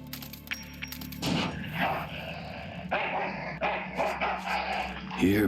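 A dog in the video game Full Throttle Remastered growls and barks in short, close bursts with whimpering, while someone speaks briefly over it.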